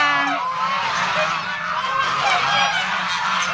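A flock of geese honking continuously at a farm in Tagaytay, many overlapping calls close by, loud and dense with a low rumble underneath.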